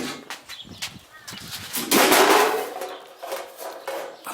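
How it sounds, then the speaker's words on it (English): A ball peen hammer taps metal during a 1969 Ford Mustang 302 rebuild. Several sharp, close strikes land at an uneven pace, and a louder ringing clang near the middle fades slowly. "Just going to take my ball peen hammer and tap on the back side over the edge"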